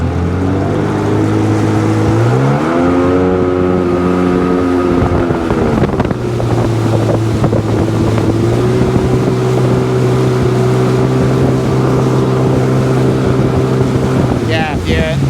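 A Sea-Doo personal watercraft engine runs loud and close, its pitch sliding up, then settling to a lower steady drone as the revs come down, with wind buffeting the microphone throughout.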